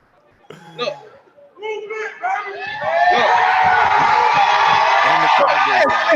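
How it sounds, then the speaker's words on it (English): A crowd at a high school football recruiting announcement erupts into loud, wild cheering and whooping that swells and holds steady, with scattered voices and chatter in the opening seconds before the roar takes over. "And the crowd goes wild."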